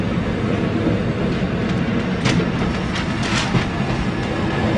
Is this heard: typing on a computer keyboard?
no